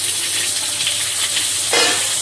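Cumin, dried red chili and chopped onion crackle and sizzle in hot oil, a loud continuous frying hiss that swells as more goes into the pan.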